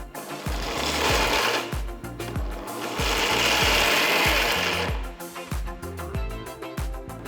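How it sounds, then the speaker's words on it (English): A kitchen mixer grinder whirring through roasted peanut rice ingredients in short bursts, loud grinding rushes broken by rattling pauses as the jar contents shift toward a coarse powder. "Transfer the cooled down ingredients to a mixer jar and grind it to a nice coarse powder."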